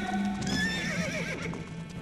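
Horses of a halted army whinny loudly while hooves clop on stony ground, several rising neighs layered over a steady noisy bed.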